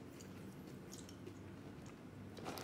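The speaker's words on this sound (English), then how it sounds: "The texture is good. It's really nice and crunchy." A crunchy snack flavored like ice cream bars and resembling Kix cereal being chewed right at the mic. Steady, moist crunching and munching fills the short stretch, with no talking.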